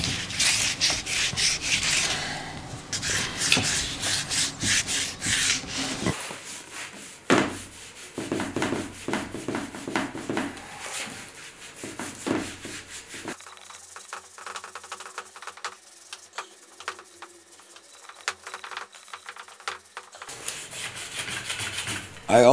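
Hands scrub decades of grime off a vintage wooden chair, a steady close rubbing and rasping that runs in bursts through the first half, then thins to sparse, quieter strokes with long near-silent gaps.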